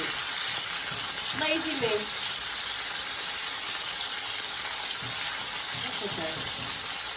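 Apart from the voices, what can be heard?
chicken frying and sizzling in a pan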